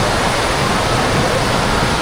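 Water pours from a large tank at a Great Wolf Lodge water park, a loud, constant, close rushing splash with no talk over it.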